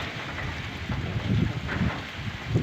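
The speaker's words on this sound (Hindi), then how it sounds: "कितना तेज़ बारिश है और कितना जो है ना तिरछा आ रहा है।" Heavy rain driven sideways by strong wind in Karak, a steady dense wash with gusty swells, loud and close with no voices.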